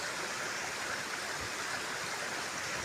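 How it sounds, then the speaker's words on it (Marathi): A mountain waterfall pours down the slope, heard as a dense, constant wash of rushing water with no breaks and no voices. "हे बघा धबधबा"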